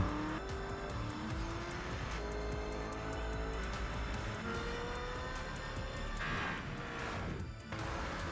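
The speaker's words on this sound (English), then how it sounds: "And that's the twin turbo V8 Lamborghini Urus." A twin-turbo V8 Lamborghini Urus drives in the PUBG video game, its engine revving hard through rising gear sweeps with brief tire squeals, loud and continuous.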